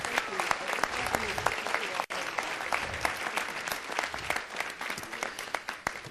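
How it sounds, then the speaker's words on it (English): Audience at a Las Vegas city council meeting applauds, a lively mass of close, sharp individual claps with scattered voices and crowd murmur beneath. "Give her a round of applause."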